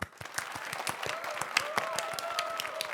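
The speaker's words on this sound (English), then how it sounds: "Can we have a round of applause for Runner Ross?" A crowd applauds steadily with scattered sharp claps, plus a few whoops and whistles rising over the clapping.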